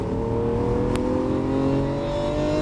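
Lamborghini Aventador engine on a race track, a loud, steady close-up drone with rising tonal harmonics as it accelerates, a short sharp tick partway through.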